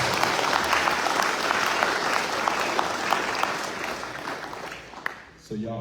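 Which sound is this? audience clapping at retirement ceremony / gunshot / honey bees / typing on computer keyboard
audience clapping at retirement ceremony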